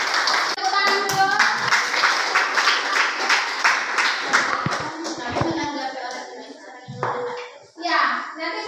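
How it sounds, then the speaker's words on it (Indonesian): A school class clapping hands together, a burst of rapid applause that tapers off, followed by children's voices chattering nearby. "Oke, tepuk tangan. Tepuk tangan dulu."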